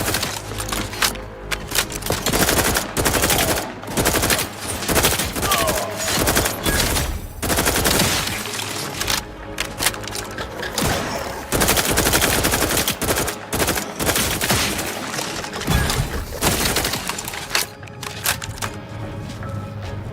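A gun is fired repeatedly in The Outer Worlds 2 video game, with loud sharp bursts of rapid automatic gunfire broken by short pauses over a low droning background.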